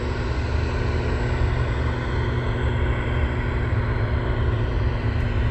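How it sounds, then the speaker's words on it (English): An MD-11 airliner departing Anchorage airport gives a loud, steady jet engine roar with a low rumble and a constant hum, sustained throughout without talk. "glad to see this MD-11 heading back to its home airport"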